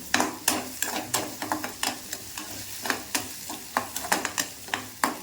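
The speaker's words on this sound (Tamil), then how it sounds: "உளுந்து, வெங்காயம், வரமிளகாய் எல்லாம் போட்டு வதக்கி விடுவோம்" Urad dal, onion and dried red chillies sautéing in a pan, a continuous close sizzle punctuated by regular sharp spatula scrapes and taps against the metal, rhythmic and fairly loud, with no talking.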